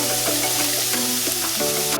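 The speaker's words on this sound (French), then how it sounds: "Mettez un peu d'huile dans une poêle, faire sauter la viande et les champignons marinés." Marinated meat and mushrooms sizzle in an oiled pan for Korean soy-sauce tteokbokki, a dense, continuous close frying hiss with a few soft stirring knocks, ending abruptly.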